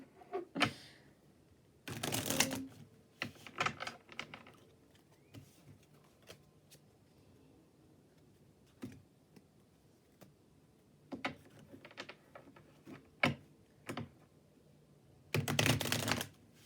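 Tarot cards shuffled by hand in scattered soft riffles and taps, with a few louder bursts of rapid flicking, quiet and close in an otherwise hushed room.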